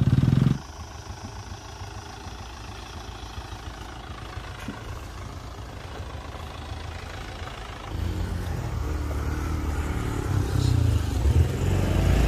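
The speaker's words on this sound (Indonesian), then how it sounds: "Mau belok kanan motornya." A motorcycle engine runs at a steady, moderate idle close by on a steep road, with a louder burst at the start and a low rumble that builds slightly after the midpoint.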